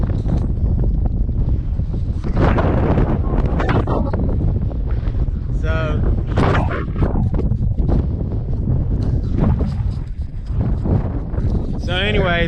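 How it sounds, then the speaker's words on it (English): Strong wind buffeting a microphone outdoors at a ghost town, a loud constant roar, with someone talking over it. "That wind is blowing like crazy."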